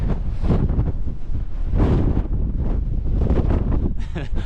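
Strong wind at a mountain summit camp, with heavy, continuous buffeting rumble battering the microphone in loud gusts throughout.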